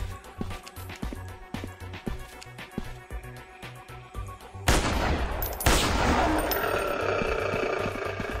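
Rapid gunfire from a dinosaur-hunting video game set in Africa, loud repeated shots in a steady rhythm that give way to a dense, louder burst of blasts and crackling in the second half.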